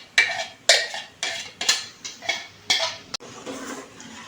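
Corn kernels go into a pot in a series of sharp rattling bursts, about seven distinct pours or stirring clatters in an uneven rhythm, loud and close, ending in a softer scraping.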